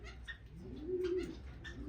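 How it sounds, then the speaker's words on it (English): Finches in an indoor bird room give soft, close cooing and chirping calls, with a short rising tone in the middle over a low room hum. "Very nice little bird."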